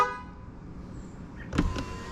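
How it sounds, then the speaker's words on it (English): Horn of a 2023 Honda Accord Sport-L Hybrid gives one short, moderately loud honk near the end, over a quiet interior hum. "Here's the sound of the horn"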